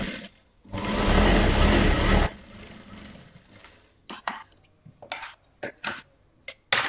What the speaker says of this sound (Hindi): तो सबसे पहले यहाँ से हम सिलाई लगाएंगे।